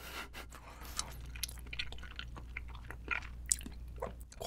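Quiet, close chewing of tender octopus from a spicy Korean seafood soup, with soft wet squelches and scattered small bites and drips, no speech.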